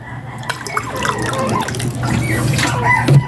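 Lukewarm water is poured into a bowl of puppy food mixed with milk powder, giving a continuous close trickle and splash with small drips throughout.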